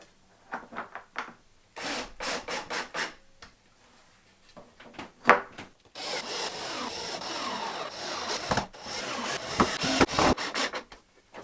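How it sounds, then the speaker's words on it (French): A power screwdriver drives screws through wooden slats on a handmade child's bed, with short whirring bursts, longer grinding runs into the wood, and handling knocks in between. "Et il ne me reste plus qu'à visser les lattes en place."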